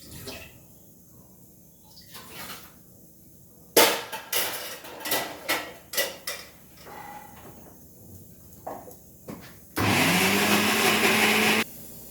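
A kitchen mixer grinder grinding soaked moong and urad dal, running as a loud steady whir for about two seconds near the end, preceded by scattered knocks and clatters of handling and no talking.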